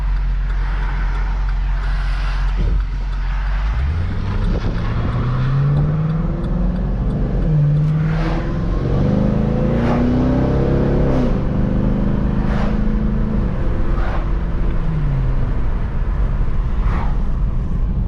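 A tuned Cadillac CTS-V fitted with an upper pulley accelerates hard on the road. Its engine drone climbs steadily in pitch through the gears, loud and close, with brief dips at each shift and no talking.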